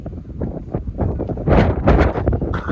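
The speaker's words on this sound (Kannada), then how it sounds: "ಗಾಳಿ ಅಂತೂ ನೋಡಿ ಎಷ್ಟು ಗಾಳಿ ಬೀಸ್ತಾ ಇದೆ" Strong wind gusts across a hilltop at Mandaragiri, buffeting the microphone in uneven rushing bursts that grow louder and rougher toward the end.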